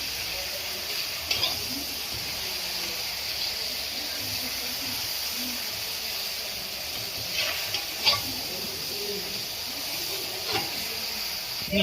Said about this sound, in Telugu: ఈ పల్లీలు అలాగే కొబ్బరి ముక్కల్ని కూడా యాడ్ చేసుకొని మంచిగా కలుపుకోవాలి